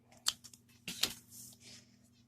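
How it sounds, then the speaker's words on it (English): Scissors snip through yarn during a loom-knitting craft project, giving two or three quick, close metallic cuts with a soft rustle in between in an otherwise quiet room. "I'm going to snip my yarn right here."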